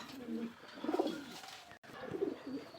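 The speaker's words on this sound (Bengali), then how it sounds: "এই যে নীলা কবুতর, এগুলো বাইরে থেকে আনা" Imported Pakistani high-flyer pigeons, blue birds brought in from Kuwait and kept in a tall flying shed, give two bursts of throaty, rolling coos close by, one after the other with a brief pause between.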